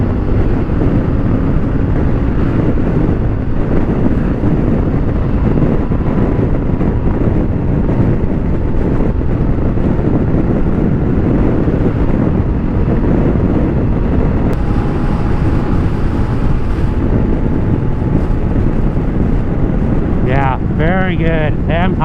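Honda Africa Twin motorcycle accelerating up to freeway speed, its engine drone buried under steady, heavy wind roar across the microphone, with a faint rising tone and a brief chirp near the end.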